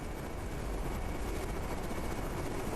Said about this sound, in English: And the other helicopter missed again.